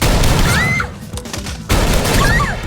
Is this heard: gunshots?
yes